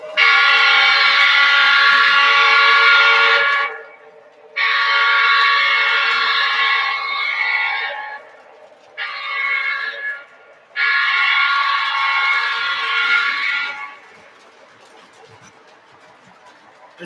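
A Baldwin model train locomotive runs with a loud, sustained whistle-like tone in several long blasts separated by brief gaps, over a low steady rumble of the running model.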